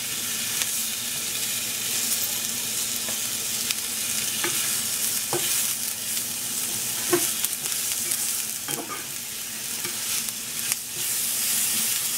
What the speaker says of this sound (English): After you've sauteed that for a couple of minutes, add your mushroom.